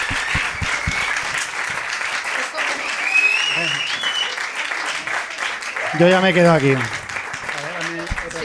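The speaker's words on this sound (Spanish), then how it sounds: "Un aplauso para Clara," Audience applause for Clara on a Spanish podcast show, moderate and steady, carrying under someone speaking briefly and other voices chiming in toward the end.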